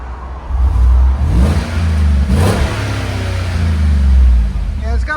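A 2015 GMC Sierra 5.3L V8 fitted with a Borla Touring exhaust revs up in a couple of deep, throaty surges before settling, close and loud, with someone speaking briefly over the engine.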